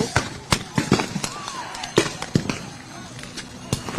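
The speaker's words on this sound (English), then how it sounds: "Got more flashbangs going off here in the crowd." Repeated sharp pops and bangs of flashbangs going off in a protest crowd at a police line in Minnesota, irregular and close together, mixed with shouting voices and general commotion.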